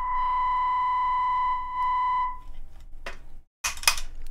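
A self-oscillating effects pedal in a guitar pedal rig holds a steady, pure, ringing tone for about two seconds, then fades into brief bursts of noisy crackle, a short dropout and a final harsh burst.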